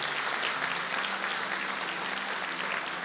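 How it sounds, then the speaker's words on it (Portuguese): A church congregation at a Tabernacles service applauds in praise, a dense, even roar of clapping from a large crowd holding steady for about three seconds. "Vamos dar aplauso ao Senhor por isso?"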